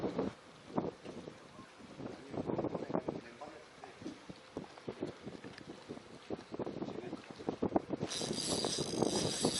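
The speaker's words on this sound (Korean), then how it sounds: "엄청나게 바람이 찹네요" Strong cold wind buffets a fishing boat at sea, gusting and rumbling loudly in uneven surges, with some mechanical creaks and a higher whine joining toward the end.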